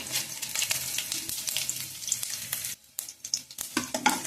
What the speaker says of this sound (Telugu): ఈసారి మినపప్పు, శనగపప్పు, ఆవాలు, జీలకర్ర కూడా వేసేసుకుందాం.